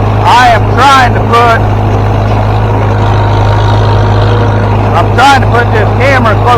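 An 85-year-old Farmall tractor engine drones loud and steady with a strong low hum, while someone talks over it in short bursts near the start and end.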